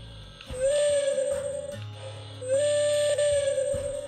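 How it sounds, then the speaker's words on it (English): Two long toy train whistle blasts sound one after another, each held about a second, over a steady low engine rumble. "its whistle"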